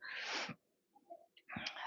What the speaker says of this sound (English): That's the baby coughing.